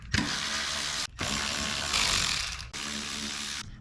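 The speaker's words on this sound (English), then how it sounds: "I'm going to start taking off all these bolts on the bottom." A ratchet wrench whirs continuously in three long bursts with brief gaps as bolts come off underneath a 2024 Toyota Land Cruiser, loud and close with no talk.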